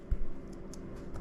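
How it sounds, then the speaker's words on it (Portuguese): A command keyed into a CNC router control computer keyboard: one soft thump followed by a few light clicks, short and close, over steady room hum. "Digitei lá, vou apertar Enter."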